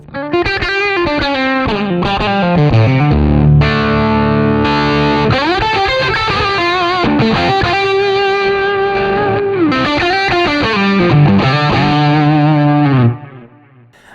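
Electric guitar through a patch with a delay effect rings out loud, overdriven notes and chords, repeats trailing behind each phrase before it cuts off near the end.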